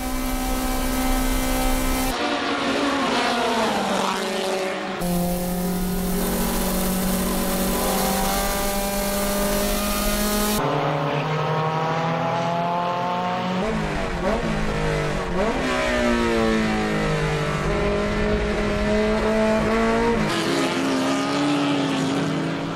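Nissan Sunny race cars running flat out on the Fuji Speedway circuit at a NISMO festival, loud engines revving hard and shifting through gears as cars pass in succession, with rising and falling pitch and no talking.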